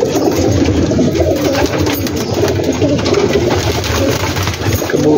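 A large flock of pigeons on a rooftop loft coos in a dense, continuous chorus of overlapping soft burbling calls, loud and close all the way through.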